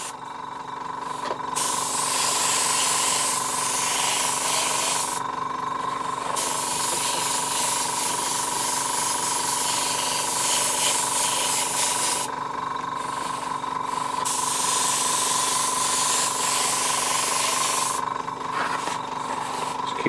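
Base coat sprayed over a landing pad stencil for Mantic Battlezones, a continuous hiss from an aerosol can with short pauses between passes, close and steady.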